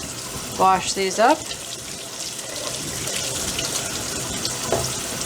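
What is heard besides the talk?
bell peppers rinsed under running tap in colander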